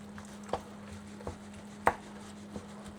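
A knife chops vegetables for Ugandan samosas in a few sparse, evenly spaced strokes on a cutting board, each a sharp tap over a steady low hum.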